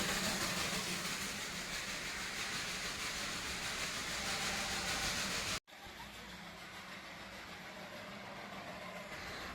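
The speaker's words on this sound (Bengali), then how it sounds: "দার্জিলিংয়ে সাইট সিন করার সময় মাঝে মাঝে পাশ দিয়ে যে টয় ট্রেনগুলো যাচ্ছে বেশ ভালোই লাগছে।" Darjeeling toy train rolling past during sightseeing, a continuous rumbling wash of wheels and carriages, loud at first then cutting abruptly to a quieter, steadier passing rumble.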